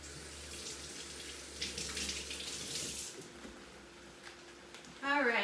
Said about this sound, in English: I just rinsed off my lettuce